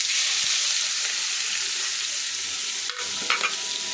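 Bay leaf, cardamom and cloves frying in a pan, stirred with a steady broad sizzle and a couple of brief scraping clinks near the end, close and continuous with no talking.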